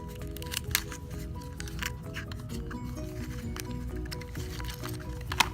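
Parts of a Vandy Vape Kylin RTA V2 kit being lifted out of a box, soft crinkling and squishy handling with light clicks and taps close by.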